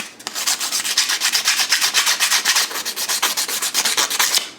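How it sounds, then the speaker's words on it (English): Rhythmic rubbing strokes of 320 grit sandpaper working over metal spoon fishing lures, a steady run of about two strokes per second, close and fairly loud with no voices. "So now we're going to sandpaper them."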